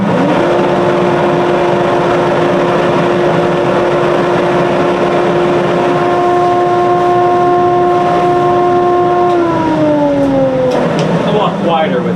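A Harbor Freight dust collector in a shop switches on and runs as a loud, steady whine with a rising tonal hum that shifts near the end.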